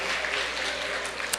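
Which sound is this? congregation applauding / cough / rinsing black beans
congregation applauding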